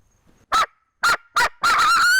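Loud, close calls from a wild turkey gobbler on Florida public land: four harsh bursts, the last one longer, separated by short silences.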